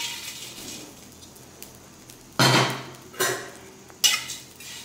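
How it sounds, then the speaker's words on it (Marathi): Dried small shrimp (jawla) being dry-roasted in a kadhai over a low flame, with a faint dry rustle broken by a few loud metallic scrapes and clanks of a spatula against the pan. "इथं मी कढई गरम केलेली आहे आणि ह्याच्यात अगदी सिम गॅसवर कुरकुरीत आपल्याला ही जवळी भाजून घ्यायची आहे"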